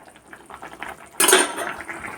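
Washed dishes and pots are set down upside down with a sudden loud metallic clatter after faint kitchen clinks, close by and ringing briefly.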